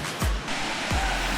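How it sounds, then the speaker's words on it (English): Steady broadband rush of a waterfall in Grenada, with two low thumps from wind or handling on the microphone, continuous and fairly close, no voices. "Look at this waterfall."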